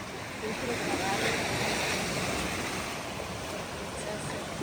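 Sea waves breaking on a Peloponnese shore, a continuous washing roar of surf heard close by with some wind buffeting, steady and moderately loud throughout.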